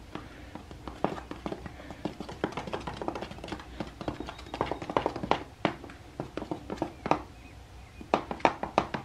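A screwdriver stirring a homemade thermite mix of powdered iron oxide makes irregular close taps, scrapes and knocks against the container in quick uneven bursts. The stirring is fairly quiet and no one speaks over it.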